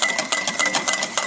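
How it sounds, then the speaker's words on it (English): A whisk beats egg yolks and oil into mayonnaise in a bowl, making a fast, steady, rhythmic scraping and tapping that stays loud and close throughout. "all we do is we just keep whisking until this completely incorporates"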